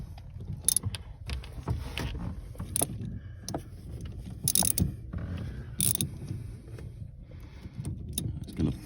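A ratchet and socket work at a bolt on the rear suspension of a Montego turbo car, producing irregular clicking and metallic clunks in short bursts over a low workshop background.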